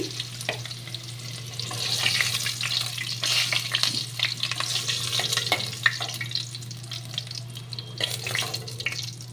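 Potato pieces frying in oil in a wok give a steady, moderately loud crackling sizzle with scattered sharper pops and occasional stirring scrapes. No voices are present.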